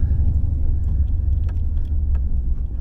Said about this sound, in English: I'm driving down my street now